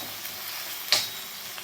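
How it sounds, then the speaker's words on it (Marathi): Sliced onion and tomato sizzling steadily in a pan while turmeric powder is stirred in, a constant close frying hiss with one brief scrape of a spoon partway through. "यामध्ये हळदपूड टाकणार आहे मी 1 चमचा. हळदपूड मिक्स करून घ्यायचे व्यवस्थित."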